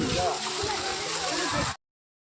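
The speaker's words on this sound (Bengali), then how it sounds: "একটু আগেই এই ঝর্ণাটা স্টার্ট করলো" A freshly started fountain at the huge temple complex in Mayapur gushes and splashes in a continuous close wash of water, with voices mixed in before the sound cuts off abruptly.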